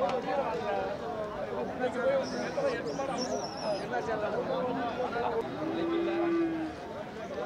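Cattle, including Kangeyam bulls, moo at the busy Manapparai cattle market in Tamil Nadu, a single drawn-out low call rising near the end amid constant crowd chatter and traders talking.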